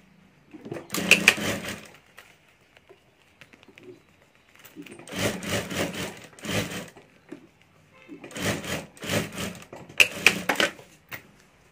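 A sewing machine stitches the lining of a homemade ladies' wallet in three separate bursts of rapid mechanical whirring and clatter, close and clear, with quiet pauses between runs.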